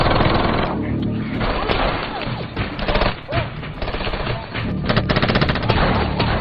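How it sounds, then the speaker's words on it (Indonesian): Dense, loud gunfire from a film shootout: rapid machine-gun bursts and overlapping shots run almost without pause, with a few sharper cracks and impacts near the end. "Aksi baku tembak pun tak dapat dihindarkan lagi."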